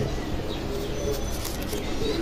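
Pet pigeons coo softly and continuously in a loft, a low murmuring bed of calls with faint chirps over steady background hiss.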